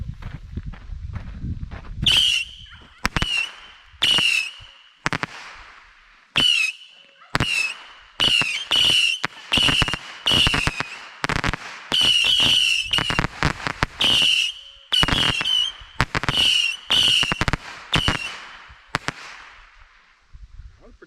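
A Saturn firework set off outdoors fires a rapid series of loud whistling cracks, one after another for about twenty seconds, each a sharp pop with a high shrill whistle, with brief pauses between bursts.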